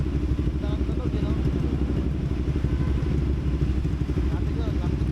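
A CFMOTO 450SR motorcycle engine runs steadily and loud at close range, its low rumble continuous throughout, with people talking over it.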